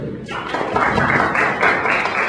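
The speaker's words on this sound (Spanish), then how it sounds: "recibimos al ingeniero con un fuerte aplauso" An audience at a lecture breaks into strong, dense applause to welcome the engineer-speaker, beginning abruptly after a brief moment and continuing as a loud, even wash of clapping.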